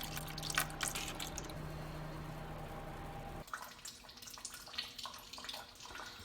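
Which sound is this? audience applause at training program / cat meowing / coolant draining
coolant draining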